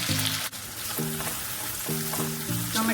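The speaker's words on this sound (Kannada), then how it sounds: "ಟೊಮೆಟೊ ಎಲ್ಲ ಚೆನ್ನಾಗಿ ಫ್ರೈ ಆಗಬೇಕು." Chopped tomato frying in a pan for a chutney, a steady close sizzle with a few short tonal clanks from the pan or spoon; no voices.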